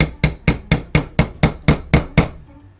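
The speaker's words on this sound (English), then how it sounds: "Smash it with a hammer!" Ten sharp, evenly spaced hammer strikes drive a finishing nail into a prop kit, each blow loud and close, with a brief ringing decay before the rhythm stops and the shop falls quiet.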